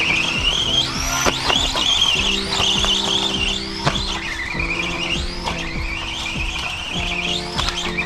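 A Tamiya TT02B Plasma Edge RC car on a 2S battery drives hard and skids, its electric motor whining up and down in repeated pitch sweeps while tires scrub and squeal, loud and close with steady rhythm over continuous road noise.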